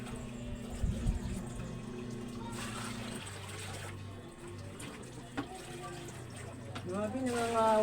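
Water scooped by hand from a full drum, heard as soft splashing and trickling pours in an uneven rhythm, fairly close, with a faint voice near the end.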